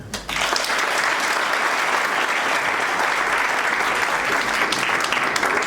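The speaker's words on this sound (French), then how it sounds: "Applaudissez au moins." Guests at a wedding ceremony break into sustained applause, many hands clapping in a thick, even roar that starts abruptly and holds steady for several seconds.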